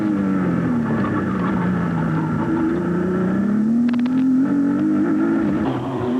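On-board sound from an Indy Lights race car on a street circuit in Detroit, 1991: a loud, close engine drone that climbs steadily in pitch as the car accelerates through a corner, with no voices.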